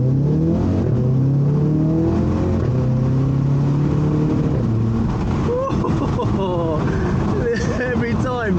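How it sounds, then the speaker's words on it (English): An Audi TT Quattro sports car engine roars and revs steadily as it accelerates, with a deep exhaust note that rises in pitch, plus wind noise from an open window. "let's put the window down so you can hear this exhaust"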